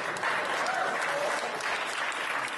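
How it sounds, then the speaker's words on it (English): An audience at a church gathering claps steadily in a dense, continuous wash of applause, fairly loud and even throughout, with a faint murmur of voices mixed in. "one clap, that was good"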